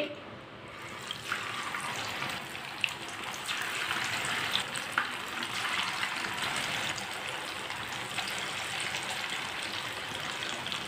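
Dough pieces frying in hot oil make a steady, dense crackle and bubbling sizzle throughout, with a few sharper pops and no talking.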